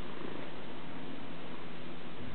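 A steady, close, low rumbling purr from a cat, continuous throughout with no voices.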